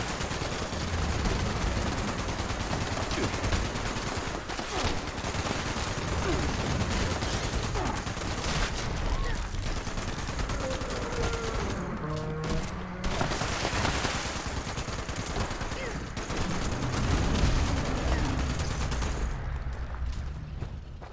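Rapid automatic gunfire in Fallout 76, dense bursts of shots that run almost without pause across the whole stretch, loud and close, with brief mechanical clatters between volleys.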